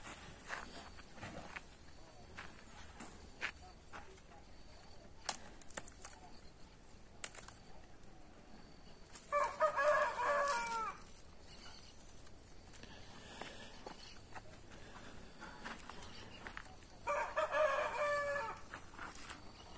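A rooster on a small farm crows twice, two clear, fairly loud calls spaced several seconds apart, over quiet outdoor background with soft handling noises.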